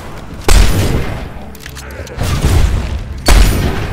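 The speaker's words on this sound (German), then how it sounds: "Da lang sollst du schießen!" Gunfire in the video game Fable III: three heavy booming shots come at uneven intervals, each a sharp loud blast with a rumbling tail, separated by quieter ambient game sound.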